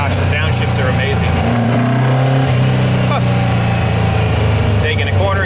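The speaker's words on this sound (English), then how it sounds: "Oh my gosh, the downshifts are amazing." The 2276cc engine of a 1955 VW Beetle drones and revs continuously from inside the moving car, shifting pitch through downshifts. A voice talks loosely over the steady engine noise.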